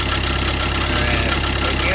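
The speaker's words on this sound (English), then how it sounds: "And obviously you can hear the noise, timing chain." A Fiat 500L engine idling with a rattle attributed to the timing chain, a steady loud mechanical running noise with a fast knocking texture that carries evenly throughout.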